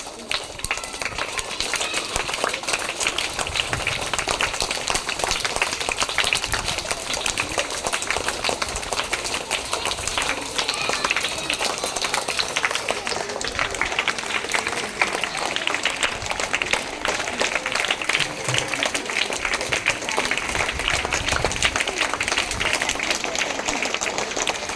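Big audience clapping steadily and loudly at a school Teachers' Day event in India as the Vision School teachers walk onto the stage, a dense wash of applause that keeps going without a break from start to end.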